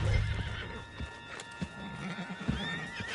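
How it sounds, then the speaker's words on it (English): Horse in the video game Red Dead Redemption 2 giving a sharp whinny amid clip-clopping hooves, with rustling game background sounds around it and no speech. "Put Strauss on the back of John's horse"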